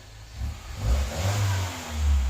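A 2015 Mini Cooper Countryman S JCW engine with a Borla exhaust revs up with a deep, throaty exhaust note, rising and falling in two strong pulls, close and loud.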